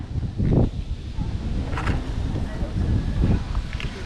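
Steady wind roar buffets the microphone on a motorcycle ride toward Tagaytay, a broad rushing noise with low gusty swells, loud and constant throughout.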